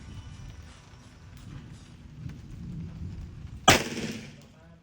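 A single loud, sharp gunshot cracks out during an outdoor firearm test of an amulet, preceded by quiet background murmur and followed by a short echoing tail.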